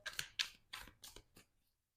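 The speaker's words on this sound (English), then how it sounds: "they asked me to shuffle the cards a little bit" Tarot cards being shuffled make five quick, crisp papery snaps in close succession, then fall silent.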